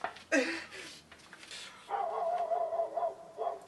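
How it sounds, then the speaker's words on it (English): A dog barks loudly and close by, several sharp barks followed by a stretch of higher whining yelps, with no one speaking over it. "somebody shut that dog up"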